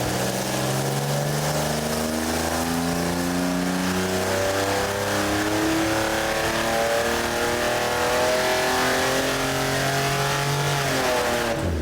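Chevy 4.3L V6 on an engine dyno, fed by a 950 CFM QFT Black Diamond carburetor, revs hard and steadily for the full stretch, its loud climbing tone rising then dropping back near the end, close and with no talking.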